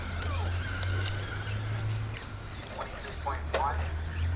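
RC stock stadium trucks race on a track, their small electric motors whining and rising in short bursts over a constant low hum, with a voice talking over them.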